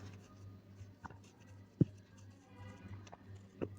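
Chalk or marker writing on a board in a classroom chemistry lesson, faint scratchy strokes with a few sharp taps and clicks over a low background hum.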